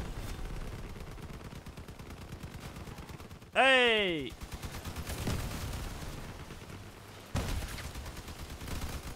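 Rapid vehicle gunfire rattles continuously in the Crossout combat game, punctuated by one heavy booming blast with a falling, whistling tail and a later loud thump, while a player shouts briefly.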